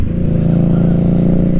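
A 2022 Indian Scout Bobber's 1133cc liquid-cooled V-twin idles steadily and loudly up close, a deep, even thrumming pulse sustained throughout.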